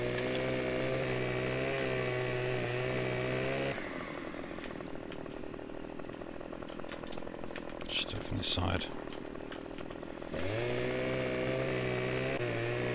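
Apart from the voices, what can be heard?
chainsaw cutting timber in video game Farming Simulator 15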